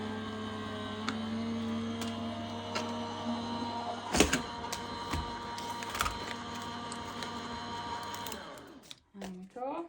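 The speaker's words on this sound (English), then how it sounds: "I'm going to run that through my die cutting machine" Die cutting machine running aquamarine pearl card through its rollers, a steady mechanical motor hum with a few sharp clicks and clunks, and a brief pause and shuffling at the end.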